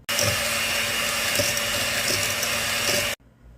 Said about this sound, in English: just use your hand mixer or however you want to mix it and blend this or beat this until it is smooth